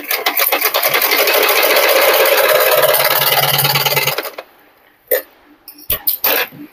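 A sewing machine stitches a blouse seam in a close, steady mechanical whir for about four seconds, then stops, followed by a few short handling clicks and knocks.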